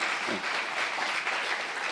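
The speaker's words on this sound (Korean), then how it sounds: "본 사람만 박수하세요" A church congregation applauding during a Saturday worship sermon, a steady, dense round of clapping for two seconds with a brief voice at the start.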